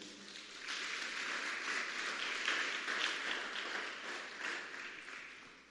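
A church congregation applauding during a Sunday service, a steady wash of many hands clapping at moderate distance that holds for several seconds and tapers slightly at the end.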